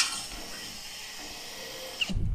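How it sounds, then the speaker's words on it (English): A continuous mechanical whir, like a drill running at moderate distance, holds steady and then stops with a brief clunk at the end. "I can pre-drill the top couple of layers"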